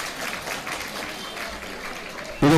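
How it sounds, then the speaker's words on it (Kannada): A temple community gathering in Ullal gives a modest round of applause, a thin, steady patter of many hands at moderate distance, ending in a sudden close knock or thump. "ಇದು ಬಹಳ ಕಡಿಮೆಯಾದಂಥ ಚಪ್ಪಾಳೆ"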